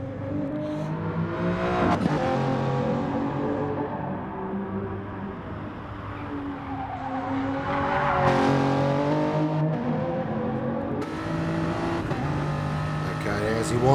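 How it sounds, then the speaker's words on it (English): A Toyota Supra in a racing video game revs hard through its 6-speed gearbox, the engine note climbing and then dropping at each shift in a loud, continuous drone. "as he winds up the Supra, Wardo starts his flyer up through the 6-speed box"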